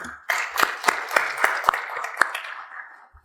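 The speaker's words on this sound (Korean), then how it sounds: "뜨거운 박수로 맞이해 주시기 바랍니다" An audience claps warmly to welcome a psychology professor to the stage at a seminar on neuropsychological assessment of dementia, a burst of many hands that starts sharply and slowly tapers off.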